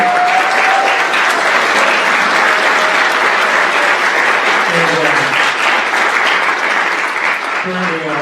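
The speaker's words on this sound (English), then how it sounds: "I'd like to give a round of applause to our two music teachers" A high school spring concert audience gives sustained, loud, dense applause that fills the whole stretch, with faint voices and cheers mixed in.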